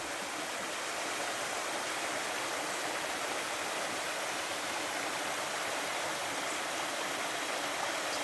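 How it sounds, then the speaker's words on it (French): Stream water flowing in the Brocéliande forest, a constant broad rushing and burbling that stays even and close throughout with no voices. "J'adore le bruit de l'eau."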